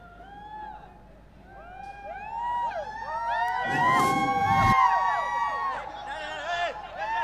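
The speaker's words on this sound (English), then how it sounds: "we can hear what the crowd think about it" Football crowd at a match reacting to a referee's decision, a rising swell of shouts, whistles and jeers with a brief loud burst midway, heard from a distance over scattered voices.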